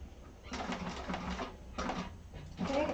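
A sewing machine turned by hand crank runs in short bursts of rhythmic stitching, paused and resumed, for careful top stitching on curves of a handbag.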